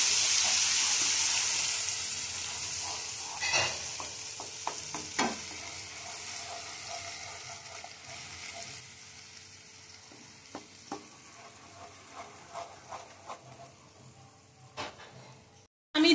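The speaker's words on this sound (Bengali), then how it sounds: "সেই মশলাটা দিয়ে আমি কিছুক্ষণ কষবো, কাঁচা গন্ধটা চলে যাওয়া অবধি" Ginger, green chili and tomato paste stirred and frying in a pan for a taro, potato and lentil-dumpling curry, a steady sizzle broken by scraping spatula strokes and brief clinks, close and fairly quiet, with no one talking.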